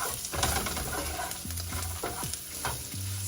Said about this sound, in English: Now I'm going to put sliced portobello mushrooms.